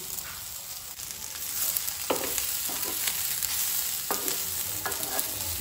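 Grated coconut and onions fry together in a pan for a Goan egg drop curry, a steady sizzle with occasional scrapes and stirs of a spoon, close and moderately loud with no talking.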